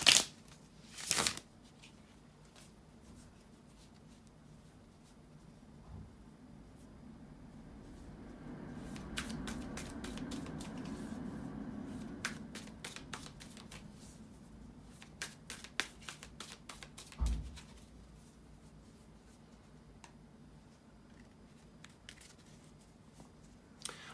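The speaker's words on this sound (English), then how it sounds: "bear with me a second, guys, to shuffle the tarot cards" Tarot cards being shuffled in quick riffling bursts, with pauses between, close and fairly quiet, plus a soft rustle in the middle.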